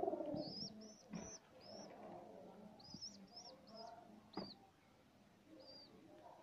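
Pigeons coo softly at a home loft during hand-feeding of a baby pigeon, with repeated short rising calls in a loose rhythm, faint and mid-distance, under occasional quiet rustling and a brief voice.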